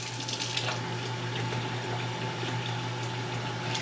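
Water poured steadily over a small brisket in an Instant Pot, a continuous rushing splash close by that holds at an even level throughout.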